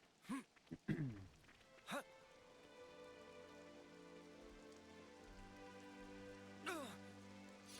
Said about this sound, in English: If only we had some shelter from this rain.